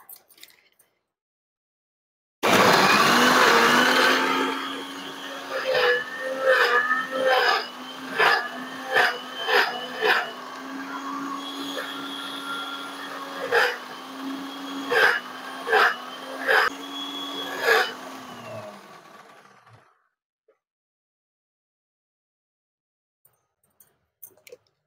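An electric juice blender grinds fruit pulp, starting abruptly with a loud whirring motor and then running in repeated pulsed surges with clicking bursts before cutting off; no talking.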